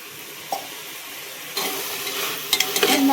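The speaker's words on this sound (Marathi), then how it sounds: "सगळं चांगलं मिक्स करून घ्यायचं." A spoon stirs a spiced mixture with peanuts, turmeric and chili in a pan, with a faint sizzle underneath and louder scraping and clinking strokes building toward the end.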